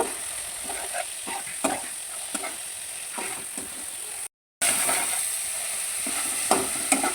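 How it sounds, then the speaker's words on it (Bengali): Fish pieces coated in masala are stirred and fried in a pan, giving a steady close sizzle with scraping spoon strokes at irregular intervals and a brief dropout midway. "মাছটাকে দিয়ে খুব ভালো করে নেড়ে চেড়ে কিছুক্ষণ মাছের সাথে মশলাটা মিশিয়ে নেব"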